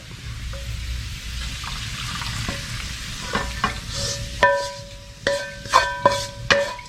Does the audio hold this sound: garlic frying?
yes